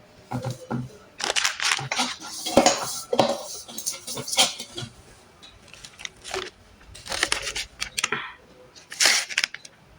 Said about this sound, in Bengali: এবার এটাকে আমি অর্ধেক করে কেটে নেব। দেখুন কেটে নিয়েছি অর্ধেক করে।